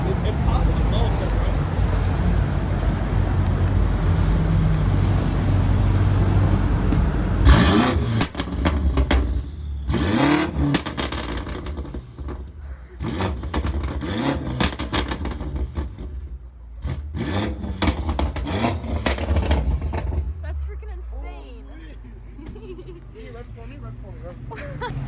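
A BMW M5 Competition fitted with new downpipes starts and revs hard, the loud engine roar rising and falling in bursts close by, with people talking over it.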